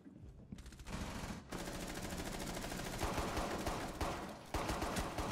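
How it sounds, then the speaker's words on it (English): Pistol gunfire in Rainbow Six Siege on Xbox One, heard as a steady stream of rapid, evenly spaced shots that runs for several seconds with brief breaks, fairly quiet overall. "Oh, the pistol works."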